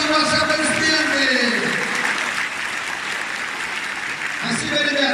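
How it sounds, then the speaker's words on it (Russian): Circus audience applause for young performers at a Kursk circus show, sustained clapping throughout with a voice speaking over it at the start and end. "Юным талантам ваши аплодисменты!"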